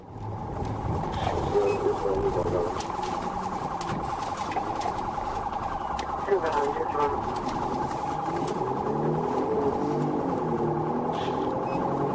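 A police trooper's emergency siren wails during a traffic stop on a highway near Tallahassee, a steady electronic tone running throughout while someone narrates over it.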